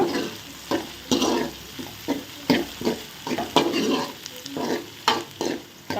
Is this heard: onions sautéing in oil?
yes